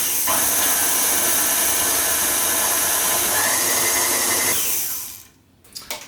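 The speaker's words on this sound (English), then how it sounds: "Just add it and then mix it until it's just formed a nice smooth batter." An electric stand mixer beats a smooth cake batter for a Simnel cake, giving a loud, steady whirring drone that runs for about five seconds before cutting off, followed by a couple of faint knocks.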